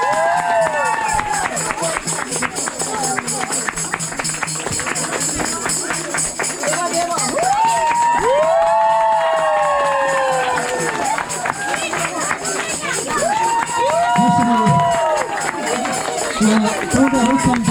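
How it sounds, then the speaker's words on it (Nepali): A church congregation in Nepal claps and cheers during worship, a dense, sustained wash of rhythmic clapping with voices rising and falling throughout. "ताली बजाउनु है त"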